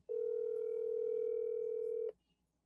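A steady telephone dial tone sounds loud and alone for about two seconds as a call is placed, then cuts off abruptly.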